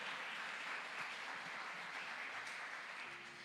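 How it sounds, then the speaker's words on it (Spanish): A church congregation applauds steadily throughout, a dense wash of clapping at constant loudness with no one speaking over it. "Denle un aplauso al Señor"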